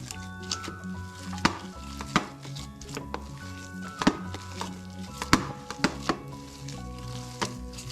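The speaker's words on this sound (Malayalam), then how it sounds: "ഇതിലേക്ക് കുറച്ച് വെളിച്ചെണ്ണ ഒഴിച്ചു കൊടുക്കാം, മതി. എന്നിട്ട് കുഴക്കാം." Leftover idli batter is kneaded by hand with coconut oil for fried snacks, making wet squelches and slaps in an uneven rhythm, close up, with no talking.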